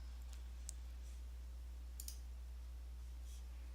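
Sparse computer mouse clicks while formatting pictures, three or four quick isolated clicks spaced over a quiet low hum, with no speech.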